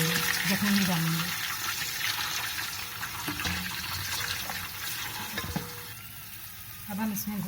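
Beef stock (yakhni) being poured into fried onions for nihari, a steady sizzle and frying hiss with liquid splashing and stirring, loud and continuous throughout with a few brief clatters and spoken voice.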